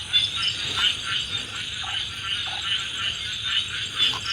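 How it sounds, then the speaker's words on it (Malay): Frogs croaking loudly at night outdoors, a dense, continuous chorus of high trilling calls with a few lower croaks, close and steady throughout. "sebab bunyi katak terlalu kuat lah"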